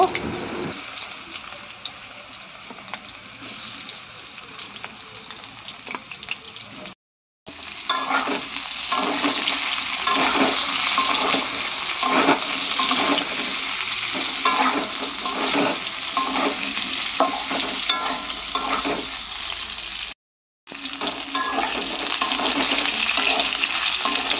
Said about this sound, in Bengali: আর এঁচড়গুলো একটু লাল লাল করে ভেজে নিলাম